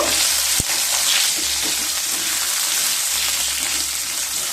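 Diced medium potatoes fry in hot oil for a spiced pumpkin dish, a loud continuous sizzle with stirring clinks and one sharp knock early on.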